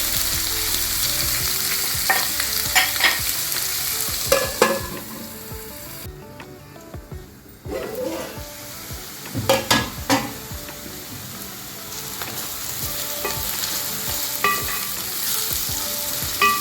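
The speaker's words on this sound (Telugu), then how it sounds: "కట్ చేసి పెట్టుకున్న 2 ఆనియన్ ముక్కలు కూడా మనం వేసేసుకుందామండి. ఇలా స్లోగా మిక్స్ చేసేసుకొని" Chopped onions fry in a pan for an Andhra-style gongura chicken curry, sizzling steadily while a spoon stirs and scrapes in bursts. A brief quiet gap is followed by renewed clatter and frying, with no talking.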